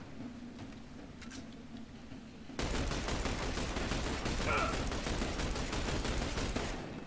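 Gunfire in the tactical shooter The Bureau: XCOM Declassified, quiet at first, then a sudden burst of rapid, loud automatic shots that keeps going steadily to the end, with faint voices in the background.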